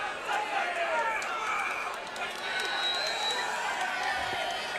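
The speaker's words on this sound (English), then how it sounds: "You can hear the fans cheering. Their student section's cheering for somebody over there" Crowd noise from fans and a student section at a Dalton vs Carrollton high school football game: steady, fairly distant cheering and chatter that fills the whole clip, heard under talk.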